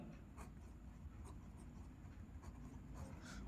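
Chalk or marker scratches across a classroom board in several short, separate strokes, faint and close, over a low background hum.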